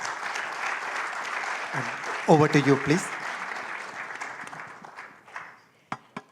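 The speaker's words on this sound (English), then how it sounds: "that was generous applause" Audience applause for a conference panel on the international monetary system, a dense steady clapping that fills the room with someone speaking briefly over it before it fades.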